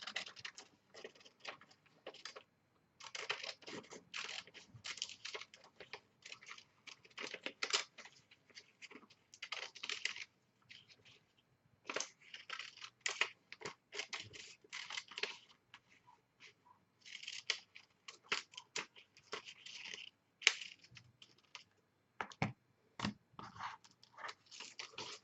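Scissors snipping through paper to cut out a picture for a glue book, quick bursts of crisp cuts separated by short pauses, close and fairly quiet throughout.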